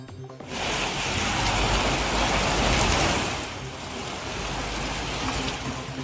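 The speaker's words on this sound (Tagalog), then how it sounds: "Kasunod dyan ang malakas na buhos ng ulan kaninang hapon." Heavy afternoon rain pours steadily in Benguet, a dense, loud broadband wash of water that holds at nearly constant intensity throughout, with no talking.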